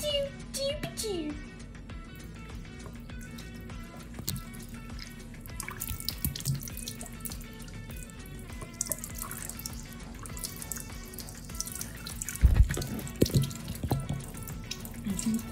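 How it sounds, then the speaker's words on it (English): Water running from a tap to fill a container, a steady trickle with drips and splashes, while someone talks over it and a sharp clatter sounds near the end. "Step 1, fill with water."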